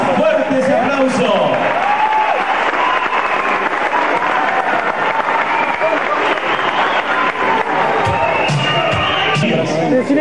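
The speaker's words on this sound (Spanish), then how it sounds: "¡Más fuerte ese aplauso!" An audience at a 1991 humour show in a live theatre applauds and cheers loudly and continuously, with crowd babble and a presenter's voice mixed into the dense clapping.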